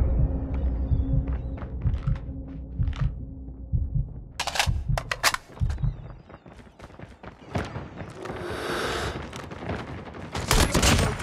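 Gunfire in a shooter video game, CODM or Arena Breakout, with a FAMAS: dense bursts of sharp shots and rapid volleys, loud and close, mixed with game effects and a brief loud whoosh.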